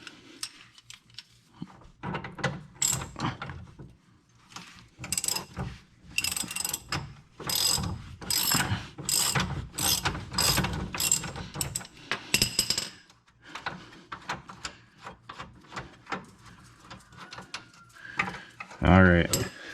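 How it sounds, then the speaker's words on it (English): A hand ratchet clicks in quick repeated bursts during repair work on a 6th-generation Ford Taurus, close and fairly loud, with pauses between strokes and a brief rattle near the end. "Bear with me through these hand cranks here"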